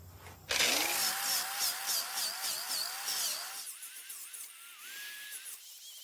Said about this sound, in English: 6-inch disc sander and polisher.